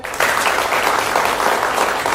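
Audience clapping in a hall at a live Indonesian media event, a sudden burst of dense applause starting right after a brief pause and holding steady and loud to the end.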